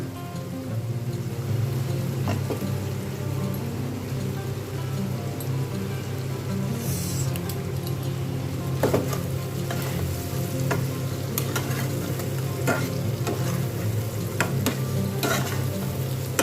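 Fried potatoes sizzle and crackle in a pan of cooked-down spiced masala, with steady frying noise and repeated scraping stirs, close and continuous.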